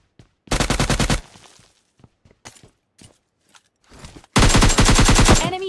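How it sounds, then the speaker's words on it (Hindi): An Uzi in a PUBG-style video game fires two long rapid bursts, one at the start and one at the end, loud and close, with brief quieter clicks and footstep-like sounds between them. "मैं प्री फायर देता हूँ"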